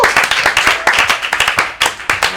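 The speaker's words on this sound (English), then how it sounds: "Guys, round of applause to Matt for dealing with that shit tonight." A small group at a live Critical Role tabletop game stream claps briskly and unevenly for a couple of seconds, close by, with a faint voice mixed in.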